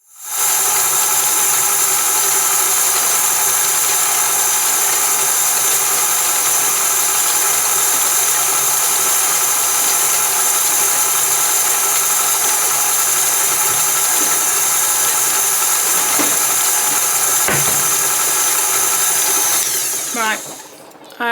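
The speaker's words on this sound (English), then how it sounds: "I'm going to place this onto the KitchenAid stand mixer now" A KitchenAid stand mixer beats brownie batter with a loud, steady motor whir that holds constant for about twenty seconds before winding down at the end.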